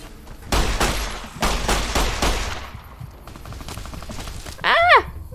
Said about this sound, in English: They're shooting at me from everywhere.